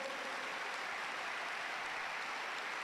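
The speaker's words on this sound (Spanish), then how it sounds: "dele un aplauso fuerte" A church congregation applauds in a steady, even wash of clapping from many hands, fairly faint and continuous throughout, with no voices over it.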